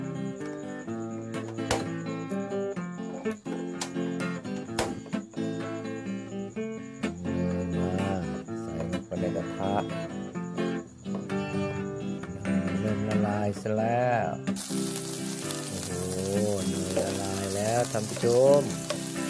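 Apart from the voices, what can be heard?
pork steak marinated with garlic and pepper frying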